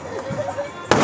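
Diwali fireworks and firecrackers in a village in Bihar, a sudden loud burst that cuts in near the end after a stretch of background voices and crowd noise.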